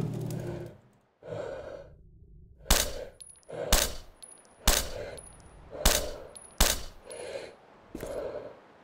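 In STALKER: Shadow of Chernobyl, an enemy fires about seven sharp rifle shots at roughly one-second intervals, each with a short echoing tail, after heavy breathing at the start.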